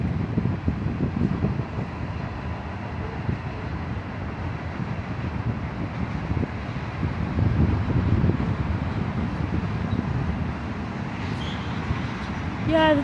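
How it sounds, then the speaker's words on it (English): A low, steady rumble of a train rolling past nearby, broad and continuous throughout, with faint higher squeals near the end. "Yeah, there goes the train."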